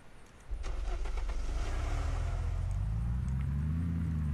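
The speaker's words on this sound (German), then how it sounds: "Oh, geil, ein grünes Auto, das will ich haben." A green car starting up in the video game Unturned, with a brief crank followed by a steady, loud low engine idle rumble that builds slightly toward the end.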